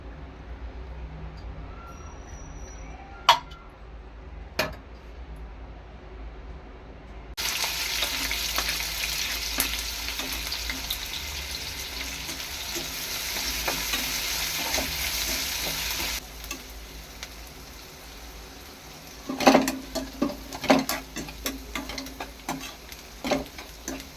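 Sesame seeds frying and being stirred in a pan: sparse ticks and taps at first, then a loud dense sizzle for several seconds, easing back to crackling with clattering stirs and scrapes of a spoon.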